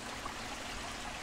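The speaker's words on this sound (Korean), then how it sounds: "집과 집 사이에 조그만 개천이 있습니다. 이야, 이 물소리 들어보세요." A small stream runs between houses on a hillside neighbourhood in Busan, giving a steady, close trickling and babbling of water with no voices.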